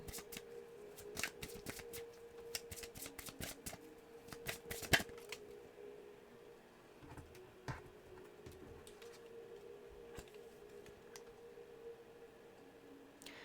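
Oracle cards are shuffled by hand in quick riffling flurries of soft papery flicks, followed by sparser taps and slides, heard close and quiet over a faint steady hum, with no talking.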